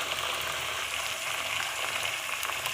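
Beef and salt frying in a pot for a khara masala beef handi, giving a steady, close hiss of sizzling with fine crackles throughout.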